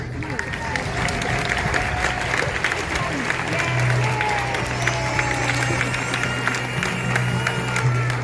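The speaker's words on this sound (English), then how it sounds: "Let's give one last round of applause to our past players" Crowd applause and cheering at a Perth SC 75-year anniversary football match honoring past players; continuous dense clapping across a stadium crowd with a steady hum and voices underneath.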